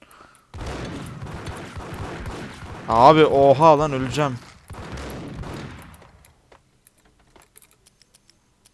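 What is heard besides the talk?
gunfire in a video game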